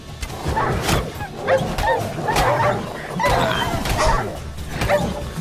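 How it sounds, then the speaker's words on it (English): Dogs in The Witcher 3: Wild Hunt bark and yip in repeated bursts at moderate distance, mixed with game ambience and occasional voices. "Los perros"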